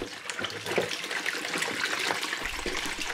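One and a half litres of bottled drinking water poured into a bowl, a loud, close, continuous splashing stream heard alone without speech.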